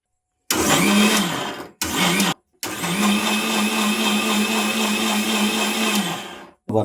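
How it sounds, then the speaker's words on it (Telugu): A mixer grinder blending coconut juice with sugar whirs loudly in several bursts, a short run, a brief pause, then a long steady spin before cutting off. "మూసి మిక్సీలో వేసి బాగా తిప్పుకుందాం"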